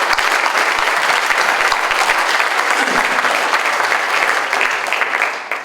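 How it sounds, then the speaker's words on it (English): Sustained audience applause fills a church hall at a senior night award ceremony, dense and steady throughout before tapering slightly at the end, with a few low thumps beneath. "give them a great big round of applause"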